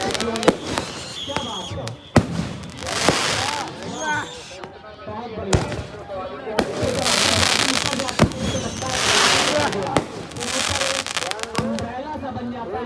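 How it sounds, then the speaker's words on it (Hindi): A 60-shot multi-shell firework cake bursts at a village fair, sharp repeated bangs and crackling showers in loud clusters, while someone comments excitedly over the noise. "इसके बाद आगे जाओ, 60 साउंड मल्टी गोला।"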